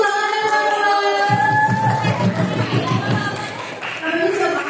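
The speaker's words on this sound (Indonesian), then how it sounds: "Tepuk tangannya teman-teman." Children in a classroom audience clap together under loud chatter and a voice, a dense, steady patter of many small hands close by that carries on for several seconds.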